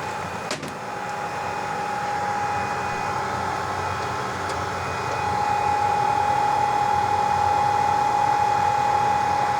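A BGA rework station steadily heats a chip from above and the circuit board of a Hisense 55H8F TV from below, giving a continuous airy blower whoosh with a faint steady tone and slowly rising intensity, with no voices.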